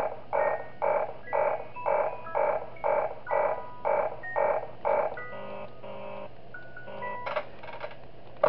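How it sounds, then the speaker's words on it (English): Music box being wound up in the horror game Five Nights at Darl's: a loud, regular series of about nine cranking bursts with a tinkling tone, then softer scattered beeps and chimes, with a low steady hum underneath. "I'm gonna wind up the music box"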